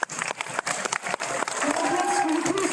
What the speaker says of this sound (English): give a huge round of applause to show your gratitude to those who came tonight